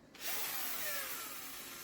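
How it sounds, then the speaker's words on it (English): A small electric drill spins up and bores steadily into an engine cover, drilling a pilot hole, close and loud, a single continuous whir. "Let's see if our little drill will get through it."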